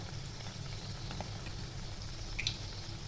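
Karanji pastries frying in hot oil, a steady soft sizzle and bubble that holds evenly throughout with no talking.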